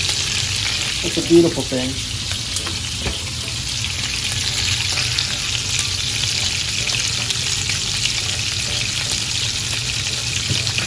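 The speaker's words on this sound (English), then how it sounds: "There's just something about butter melting." Butter melts in a hot pan with a steady, close crackling sizzle that runs throughout, while someone speaks briefly over it near the start.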